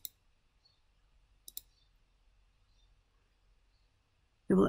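Computer mouse clicks, sharp and close: a single click at the start, then a quick double click, then near-silence, cut off by a loud thump at the end. No one talks.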